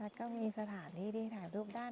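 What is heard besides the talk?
None of the usual background noises is heard.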